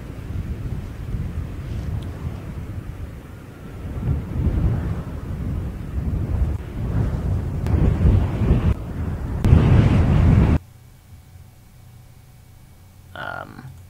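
Blustery wind with rumbling thunder and hard rain in a stormy field recording, a dense roaring wash with swelling gusts that builds louder, then cuts abruptly to a quiet hiss with a brief faint burst near the end.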